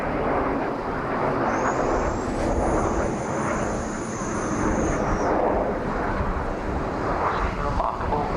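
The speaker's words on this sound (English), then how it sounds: "main team of 4 aircraft comes through in column" An aerobatic team of four aircraft sweeps past in column at a 1989 RAF Scampton airshow, a loud, steady jet roar with a brief rising whine partway through, while an announcer talks faintly beneath.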